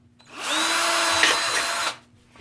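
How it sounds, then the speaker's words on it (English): A power drill bores a pilot hole through sheet metal stove pipe for a double-walled setup, one steady whining run of about a second and a half that starts and stops cleanly, close and loud. "So the way to achieve that would be just drill"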